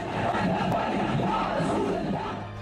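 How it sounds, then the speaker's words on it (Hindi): A vast crowd at Khadim Hussain Rizvi's funeral procession on a Lahore highway roars and shouts in a dense, continuous wall of voices that holds steady throughout. "इस बागी शोर को सुनने और समझने की कोशिश कीजिए"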